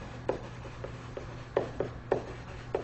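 During a lecture, a marker or chalk writes on a board in short irregular strokes, each a small scratchy tap, quiet against a faint steady room hum.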